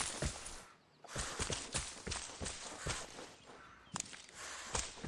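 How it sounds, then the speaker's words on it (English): Footsteps behind the player in the Vigor video game land at an irregular walking pace, muffled and fairly quiet, over a constant background hiss. "Thought I heard some footsteps behind me"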